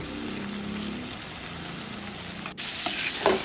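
Eggplant and potato curry with masala and red chili spices sizzles in a pan while a spoon stirs it, a steady frying hiss with scraping strokes and a sharper clatter near the end.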